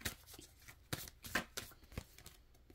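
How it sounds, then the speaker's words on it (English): Tarot cards being shuffled and pulled from the deck, a series of close, quiet riffling flicks and snaps in an irregular rhythm, with no speech. "So let's pull a couple more cards here."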